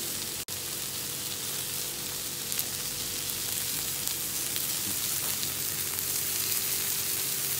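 Fish frying in hot oil until crispy, a steady dense sizzle running unbroken throughout with a single sharp click near the start and no voices.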